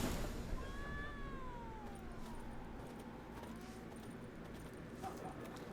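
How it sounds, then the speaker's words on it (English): A cat in The Witcher 3 gives a single drawn-out meow near the start, fairly faint against steady outdoor game ambience with light jingling and hoof-like clops. "Hello, kitty cat."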